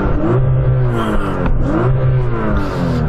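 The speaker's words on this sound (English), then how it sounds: "So I'm going to start off with this R8. Oh! Wow. This sounds mighty." A 950hp Audi R8 engine revs loud and close in a roaring, rising whine. Two quick rev sweeps climb and drop back with no talking over them.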